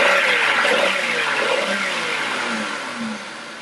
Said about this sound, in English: Now with the oxygen sensor unplugged, we can accelerate the engine.